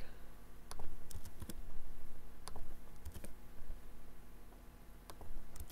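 Sparse, quiet keystrokes on a computer keyboard click in short clusters with pauses between them, close to the microphone in a quiet room.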